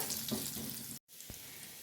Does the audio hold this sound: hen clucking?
no